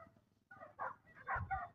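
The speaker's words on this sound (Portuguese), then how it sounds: "o latido parece que está aqui do meu lado" Dogs bark in the distance, about 300 meters away near a road, as a few soft, muffled barks over a quiet background.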